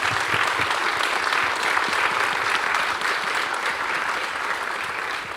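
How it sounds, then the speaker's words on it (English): Audience applause for the team of the Summer Space Festival 2023, a loud, steady roar of many clapping hands that holds throughout. "a last round of applause for the entire team of the Summer Space Festival"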